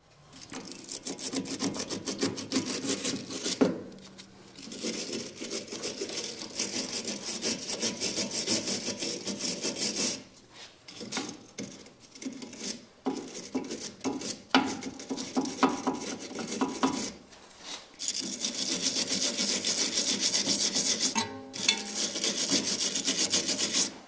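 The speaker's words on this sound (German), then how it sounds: "Am besten mit einer Drahtbürste hier und hier sauber machen und mit Rostlöser einsprühen." A wire brush scrubs rust off the steering tie rod joint of a BMW E87, rasping hard and continuously at close range in long strokes, with brief pauses between bursts.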